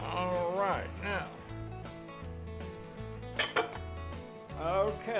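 A spoon stirs ham and mushroom pieces in a metal pot, with light scraping and a few clinks against the sides under steady nearby talking and background music.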